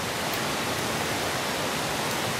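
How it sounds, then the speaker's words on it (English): Waterfalls rushing at a Crown Land canoe campsite give a steady, dense roar of falling water, loud and unbroken, with no voices. "Just listening to the waterfalls all day has been nice."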